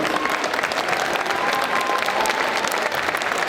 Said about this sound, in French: j'aimerais qu'on t'applaudisse vraiment par un standing ovation